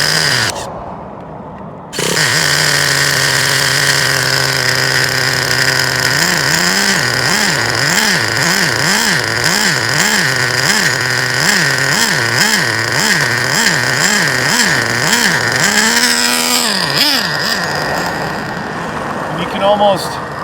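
Nitro-powered Traxxas Revo RC monster truck engine starts up loud and close, then runs with a strong buzzing drone that revs up and down in rhythmic surges before easing off, with a voice faintly underneath.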